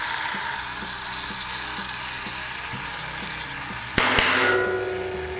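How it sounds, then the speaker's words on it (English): A bottle of tire sealant pushed onto the valve of a punctured mountain bike tire, giving a steady hiss with faint mechanical ticks, then a sharp burst of louder spraying air near the end. "all I had to do was jam the bottle onto the tire valve and let it do its thing"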